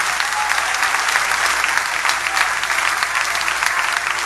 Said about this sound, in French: applaudissement pour ça